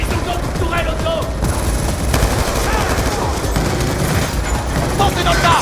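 Auto turret gunfire in Call of Duty: Black Ops II, a dense, continuous rattle of rapid automatic shots mixed with other battle noise, loud and unbroken throughout.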